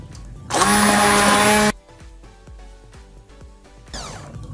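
A kitchen blender whirs loudly for about a second as it mixes banana for a homemade face wash, then cuts off, leaving clinks and clatter of the jar and utensils, with a shorter whirring burst near the end.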